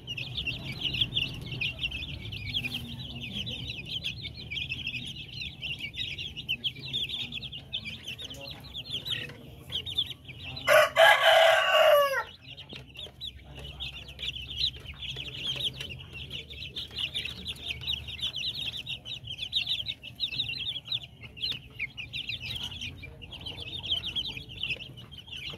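Darag native chickens of the parawakan type, including white birds, cluck steadily and continuously up close. A single loud crow rises above the clucking partway through, with no talking.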